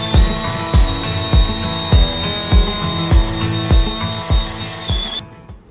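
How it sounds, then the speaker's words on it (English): A power drill whirs steadily with a rhythmic, repeating thud as the bit bites in while drilling a jack plate mounting hole, loud and close, winding down at the end. "now that we have drilled our first top hole"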